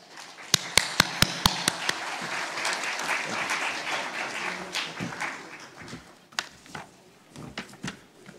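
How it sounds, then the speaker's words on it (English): Crowd applause at the opening ceremony of the Nepal Investment Summit, starting with a few sharp, loud individual claps before swelling into a broad, even round of clapping that tapers off with scattered last claps. "Please give a round of applause."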